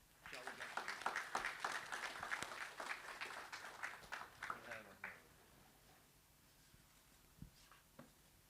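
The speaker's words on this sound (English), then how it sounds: "Give a round of applause." An audience at an MOU signing ceremony during a design-and-tech festival claps moderately for about five seconds, then the applause dies away into a quiet room with a couple of stray knocks.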